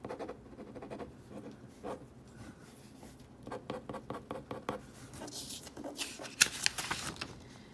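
A Lamy M16 broad ballpoint refill writing on paper, with soft close scratching strokes in short bursts and pauses, growing busier and louder toward the end.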